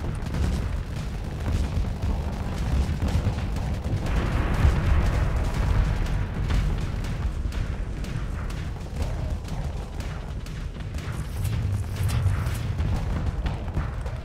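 Rockets and mines exploding in the space combat game Starsector, a dense, continuous rumble of booms and blasts with rapid impacts layered throughout, loud and unbroken with no talking.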